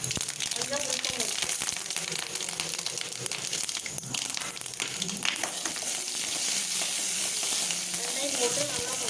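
Onion frying in hot oil with mustard seeds for a dosa tempering, a steady loud crackling sizzle throughout, close by, with a voice speaking faintly underneath.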